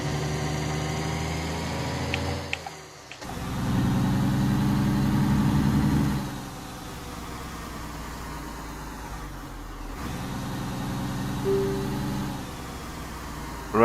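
A truck engine drones and rumbles on the road as another vehicle overtakes, the loud engine tone rising and falling in swells, with a brief dip and a passing whoosh.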